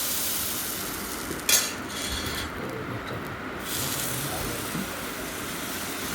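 Appam batter ladled into a hot pan and swirled, a steady soft sizzle with faint scraping, one brief knock near the start, close and continuous with no talking.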